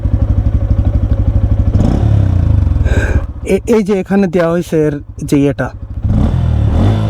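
A stock-exhaust Bajaj Pulsar N160 motorcycle engine idles close by with a steady, low throbbing hum that runs alone for about three seconds, then continues underneath someone talking.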